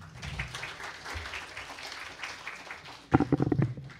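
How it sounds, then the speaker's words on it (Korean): An audience at a lecture applauds to welcome a professor, with continuous clapping for about three seconds followed by a louder, choppy burst of close sounds near the end. "뜨거운 박수로 맞이해 주십시오"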